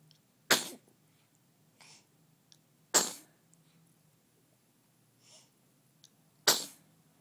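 Three loud, sharp sneezes burst out at even intervals, each followed by a quick decay, with softer breaths and small noises between them in a quiet indoor room.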